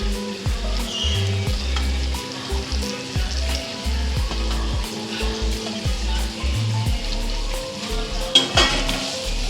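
Okra frying and sizzling steadily in a pan, with repeated scraping and clattering as the pieces are flipped and stirred.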